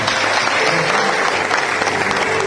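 Wedding guests burst into dense, sustained applause, a loud close crowd of clapping hands filling the room without a pause.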